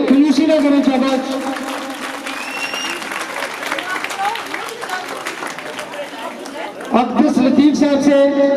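Applause and cheering from guests at a Kehkshan Public School event in Bindian, honouring children collecting prizes, with loud sustained clapping under crowd chatter and a voice speaking over it.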